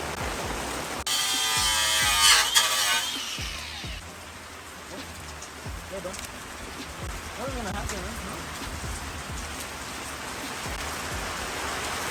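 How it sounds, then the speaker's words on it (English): Steady rain patters and hisses on a hard surface throughout, with a brief buzzing mechanical noise early on and faint clatter underneath. "if you don't work in the rain, dude,"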